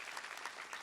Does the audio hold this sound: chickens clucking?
no